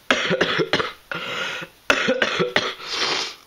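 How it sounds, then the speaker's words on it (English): A run of harsh, loud coughs in quick bursts, nearby, with a short pause midway before another cluster of coughing. "I've got a really bad cough and cold."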